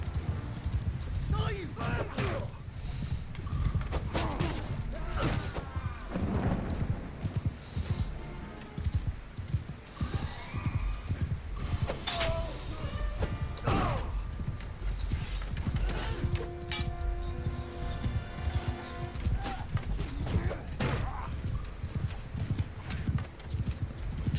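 Horse hooves clip-clop steadily through the whole stretch in Mount & Blade II: Bannerlord, with horse archers, mixed with occasional whinnies, clanks and game-like effects, with voices talking now and then.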